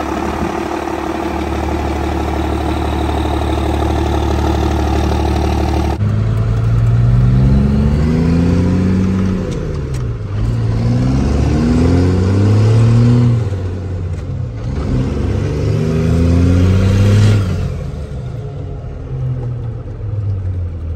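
A 12-valve Cummins diesel swapped into a Jeep Wrangler with a five-speed, idling with a loud steady rumble, then revving up and down through several rising and falling pulls, close and alone with no talk.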